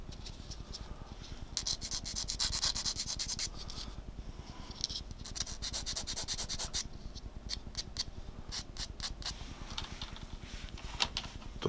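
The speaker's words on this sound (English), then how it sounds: "I can show you how I sanded this" A small cylindrical plastic part from a 1:72 Bandai TIE Striker model kit is sanded by hand in close, rhythmic scratchy strokes, with brief pauses between bursts.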